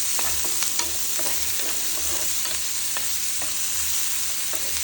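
Chopped onion sautés in hot oil for masala vegetable Maggi, giving a steady, even sizzle with light scraping strokes from stirring and no talking.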